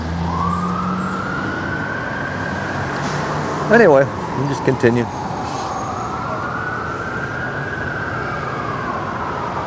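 Emergency sirens wail, rising and falling in long sweeps over Boston city traffic noise at Comm Ave and Arlington, with a voice briefly speaking in the middle.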